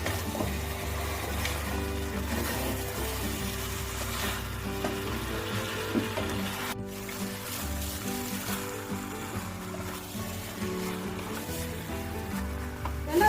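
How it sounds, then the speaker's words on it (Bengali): Mutton sizzles steadily in hot spiced oil in a pan while being stirred for a Bengali morich mangsho curry, a continuous close frying hiss under background music. "এই ঝরিয়ে রাখা মাংসগুলো এর মধ্যে দিয়ে দেব। কষাতে থাকবে।"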